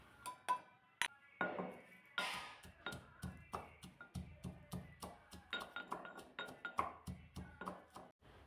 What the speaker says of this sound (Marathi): लसूणसुद्धा असा उकळामध्ये ठेचून घ्यायचा